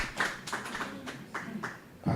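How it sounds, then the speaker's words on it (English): Scattered hand claps from an audience at an indoor public event, a brief light patter of a few people clapping, fairly sparse and fading quickly. "We can clap hands for him in absentia."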